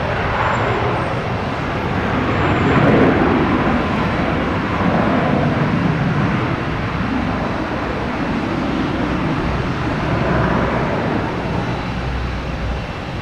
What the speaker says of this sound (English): UPS here. It's gonna be heading to Louisville. 767.